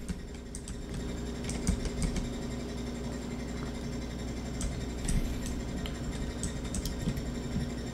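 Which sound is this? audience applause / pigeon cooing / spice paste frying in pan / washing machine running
washing machine running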